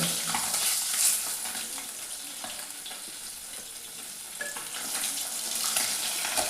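Sea fish pieces fry in hot oil with a continuous crackling sizzle, bright and busy with occasional sharper pops, heard close up with no voices.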